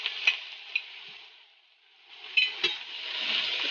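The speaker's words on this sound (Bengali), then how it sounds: "একটু নেড়ে চেড়ে আমি এটাকে ঢেকে দেব।" Fenugreek greens and hilsa fish being stirred in a pan, with soft scraping and a few light clinks of the utensil against metal over a faint sizzle, pausing briefly midway before resuming.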